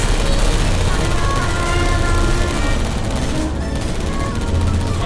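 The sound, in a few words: turrets firing in video game Portal Stories: Mel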